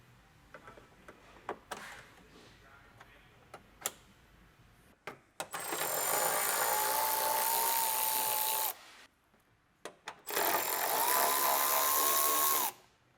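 A power tool whirring out 10mm bolts from the grille brackets of a 2016-2023 Toyota Tacoma, two sustained bursts of high-pitched motor whine, with scattered ticks and clicks of handling between them.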